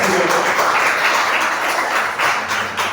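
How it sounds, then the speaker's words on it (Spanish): A church congregation at a Sunday service with communion breaks into dense, loud, continuous applause, steady throughout with a slight dip near the end. "¿Cuántos aplaudimos?"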